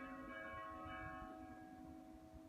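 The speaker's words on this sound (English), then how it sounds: "The bells are starting to get on my nerves." Church bells ringing in Greece, a sustained layered peal of several bells with lingering overtones, steady and moderately loud throughout against faint background ambience.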